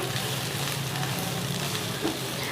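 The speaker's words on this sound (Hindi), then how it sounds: "1 शिमला मिर्च और आधी गोभी है। फ्राई कर लूँगी" Capsicum and cabbage sizzle in a hot pan for hakka noodles, a steady, close crackling hiss throughout with no voices.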